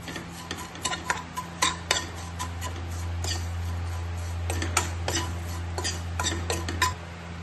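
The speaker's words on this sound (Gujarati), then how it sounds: "सेव नाखीने आपणे हलावी लेशुं।" Sev being stirred in hot oil in a pan, giving rhythmic scraping clinks of a spoon against metal over a steady low sizzle, close and clear.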